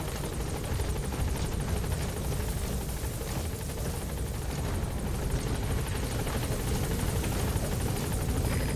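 Helicopter in the Metal Gear Solid video game, a steady loud rotor chop and engine whine holding constant throughout without pause.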